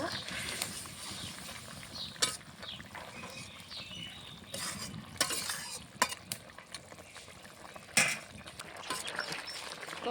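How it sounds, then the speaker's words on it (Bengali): Fried small fish simmer in a sour curry in a pan, giving a soft, steady bubbling sizzle broken by occasional scraping clinks of a spoon stirring close by. "ভেজে রাখা মাছগুলো দিয়ে দেবো ভালো করে এখন কিছুক্ষণ ফুটিয়ে নেব"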